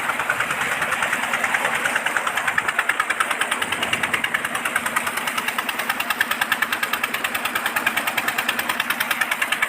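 A 25 HP Peter diesel engine running a water pump for wheat irrigation, chugging at a steady, even thumping rhythm at moderate speed, loud and close throughout with no talking.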